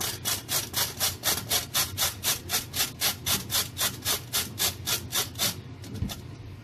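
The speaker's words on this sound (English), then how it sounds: "I grate my carrots on this side of the grater, not the other side, okay?" Carrots grated on the coarse side of a box grater for coleslaw, about twenty steady back-and-forth rasping strokes, close and even, ending with a short pause.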